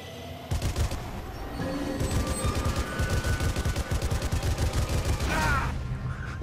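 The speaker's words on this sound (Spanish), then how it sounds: "Vamos a pasar balazos." Sustained gunfire in the World War II shooter game Sniper Elite III at an airfield, dense rapid bursts with repeated shots and a loud mechanical sweep near the end.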